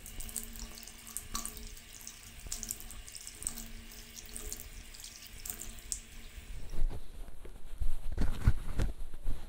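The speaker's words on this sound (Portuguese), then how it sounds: "Vou enxaguar o rosto." A bathroom tap runs steadily into a sink while someone rinses their face, with the splashing growing louder and more irregular toward the end.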